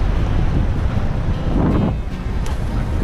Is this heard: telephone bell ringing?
no